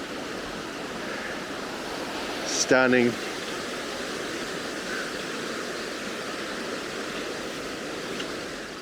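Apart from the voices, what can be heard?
water running down mountains into a river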